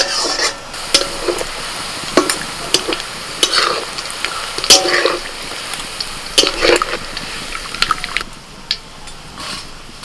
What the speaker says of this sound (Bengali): আস্তে আস্তে কিন্তু পেঁয়াজটা বাদামি কালারের হয়ে আসছে